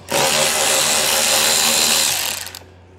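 A power drill removes 8mm screws from a 2019 BMW bumper, a loud close whirring burst that holds steady for about two seconds and then winds down.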